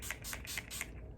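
Urban Decay De-Slick setting spray misted from a pump bottle close up, four quick even spritzes in a row, then quiet.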